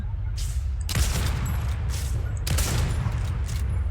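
Bursts of Fortnite video game gunfire, two loud sharp volleys with quieter shots between them, over a constant dense game background.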